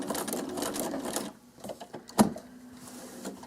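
A sewing machine stitches binding onto a quilt in a quick, close mechanical whir that stops partway, followed by a sharp clack and softer handling sounds as the presser foot is raised and the quilt turned.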